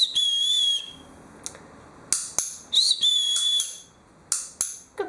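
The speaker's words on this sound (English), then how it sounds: "This is to show you recall as trained by a whistle to Pewter" A shrill whistle is blown in a series of short blasts, one longer tone first, then several sharp bursts with quiet gaps between.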